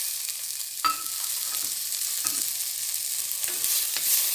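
Mint leaves sautéing with garlic in ghee for tomato soup, a soft steady sizzle with a few sharp stirring clicks, close and alone with no talk.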